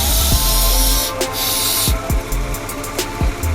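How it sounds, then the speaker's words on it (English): Brake cleaner sprays onto the transmission of a BMW 325xi E46 in short, loud, hissing bursts separated by pauses, with clicks and small knocks between the sprays. "Once again, clean the area up with brake clean."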